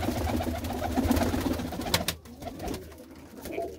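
Racing pigeons at a pigeon club coo close by in soft, repeated throaty calls that build and then fade out partway through, leaving quieter background.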